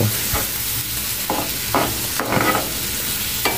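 A chestnut meatball mixture sizzles in a pan while being stirred, with a constant frying hiss beneath several distinct scraping and stirring strokes, heard close and without speech.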